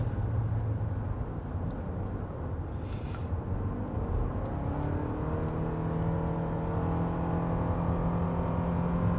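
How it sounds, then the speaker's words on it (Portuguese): A Toyota RAV4 Hybrid accelerating uphill at full power with electric motors and the combustion engine driving together, a steady in-cabin whir and road roar whose pitch climbs gradually as speed builds. "É impressionante quanto que acelera nessa subida."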